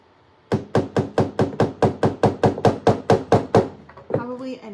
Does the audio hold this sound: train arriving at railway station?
no